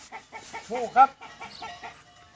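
Hens clucking at a poultry sale, a run of short rhythmic clucks and squawks close by, one louder call near the middle, with no talk.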